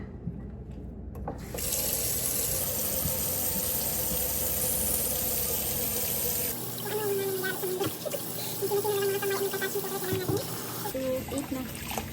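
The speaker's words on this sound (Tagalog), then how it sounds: "Ay, huhugasan natin itong orange." An orange is rinsed under a running kitchen tap. Water streams steadily into the sink with some splashing and trickling, and after a short quiet start it continues nearly unbroken to the end.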